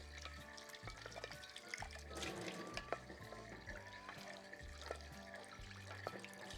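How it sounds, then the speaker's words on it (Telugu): A pan gets washed under a running kitchen tap before an omelette is cooked in it, with soft water flow, splashing and scrubbing clatter at low volume and no voices. "అందుకే కడిగేస్తున్నా."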